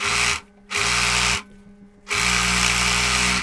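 Three close bursts of a sewing machine stitching a reinforcement seam on a blazer, each a fast, buzzing run separated by short pauses, with the last run lasting longest.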